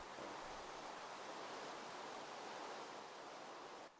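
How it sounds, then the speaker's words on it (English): Water rushes from a dam in a steady, loud, broadband roar that holds for about four seconds, then drops off abruptly near the end. "And there is all the water."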